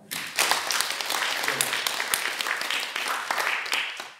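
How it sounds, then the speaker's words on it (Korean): Congregation applauding during a Korean church sermon, a sustained wash of clapping from many hands that swells quickly and continues steadily throughout, moderately loud and close, with no speech over it. "우리 하나님께 감사의 박수합니다."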